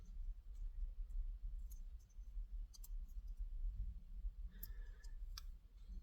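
Sharp clicks from the jaw of a small 3D-printed plastic raptor toy, a few brief ticks near the end over a low background hum.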